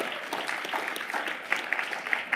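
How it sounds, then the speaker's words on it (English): Brief clapping from the audience at an annual council meeting. Scattered claps are moderately close, with a few sharp individual slaps standing out near the end and light crowd noise beneath. "I give that a clap."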